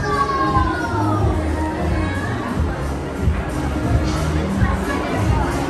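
Dense crowd noise at a busy market in Kenya, a continuous murmur of many voices with scattered clatter and shuffling, steady and close around the listener, with someone talking nearby.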